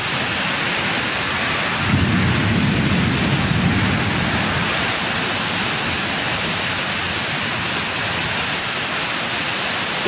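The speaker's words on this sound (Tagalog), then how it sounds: "Pag umuulan dito guys, grabe, napakalakas." Heavy rain pours steadily at a school during a downpour that quickly causes flooding. A dense, roaring hiss stays loud and constant throughout, with a deeper rumble swelling briefly near the start.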